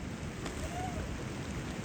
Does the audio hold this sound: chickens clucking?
no